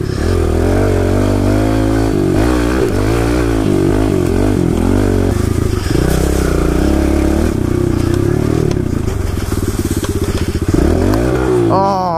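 A pit bike engine revs hard in neutral, close and loud, rising and falling through repeated throttle blips with a clattering exhaust note, while a rider speaks over it.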